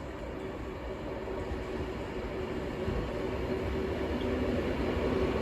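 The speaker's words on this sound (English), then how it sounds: "being worked by a Class 390 Pendolino" An 11-coach Class 390 Pendolino electric train rumbles steadily close by at Stafford station, a broad continuous roar with a faint whining tone running through it, growing slightly louder toward the end.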